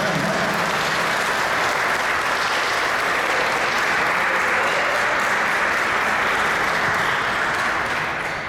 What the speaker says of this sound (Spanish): También le damos un aplauso